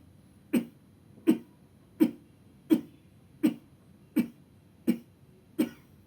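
Eight sharp, forceful coughs during Kapalbhati breathing practice, at a steady rhythm, evenly spaced about two-thirds of a second apart, close and clear with quiet between them.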